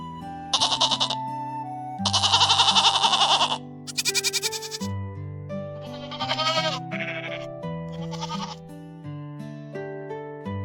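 Cartoon goat bleating in a playful farm-animal sequence, several short wavering bleats of varying length and pitch over a light bouncy musical backing.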